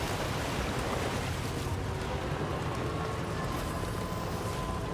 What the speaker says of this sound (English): Oh, waterfall. I was like, what the heck is that sound?